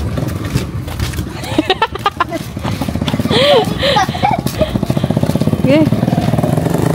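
A motorcycle engine passes close by on a street, its steady drone growing louder midway while people talk over it.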